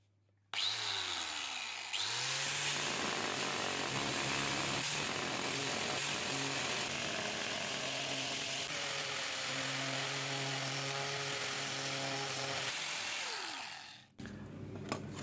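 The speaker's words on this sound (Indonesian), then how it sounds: "Kita siapkan amplas untuk meratakannya seperti ini." Continuous abrasive rubbing of wood with sandpaper, steady and loud for most of the clip, with a faint droning hum beneath and no talking.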